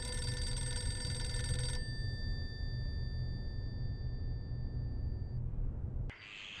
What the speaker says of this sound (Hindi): ये किस शो का फोन होगा?